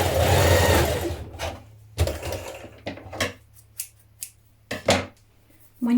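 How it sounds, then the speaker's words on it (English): A sewing machine stitches fabric for a wrap dress: one steady, close whirring run at the start, then a series of short, separate stitching bursts with pauses between them. "We're now going to stitch that in"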